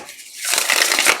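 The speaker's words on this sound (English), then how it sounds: "let's get one more shuffle here." A deck of tarot cards is shuffled, giving a close, loud papery riffling burst that follows a short, soft rustle.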